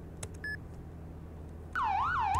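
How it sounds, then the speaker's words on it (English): A police car siren in a video game switches on partway through, rising and falling in a loud, close wail after a few brief beeps and chirps, with a low engine hum underneath and no talking. "I want just press C for siren."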